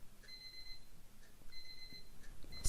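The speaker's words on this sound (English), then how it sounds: "is putting you on hold to turn off my alarm." An alarm clock ringing in repeated short beeping bursts, three clear groups at moderate distance over quiet room noise, no speech.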